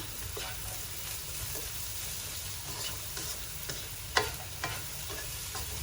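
Beetroot is stir-fried with salt and vegetable seasoning powder in a pan over a medium-low flame, giving a continuous soft sizzle broken by light scraping stirs and one sharper clack of the spatula.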